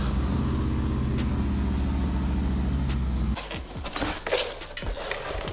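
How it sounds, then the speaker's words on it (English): A 2019 Harley-Davidson Road Glide Special motorcycle engine running steadily with a deep, loud rumbling idle, then rattling and revving unevenly toward the end as it warms up. "I am gonna get the bike started so that we can let it warm up before we drain the"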